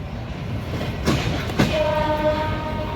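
The Jahanabad (Rupashi Bangla) Express rolls past toward Dhaka with a steady rumble and clatter, two sharp knocks breaking through and drawn-out horn tones rising near the end.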